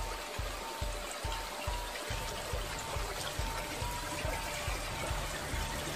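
A clear stream flows and trickles at a steady, moderate level, with soft low thumps in an uneven rhythm running under the water.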